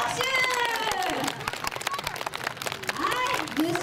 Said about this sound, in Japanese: とりあえず拍手。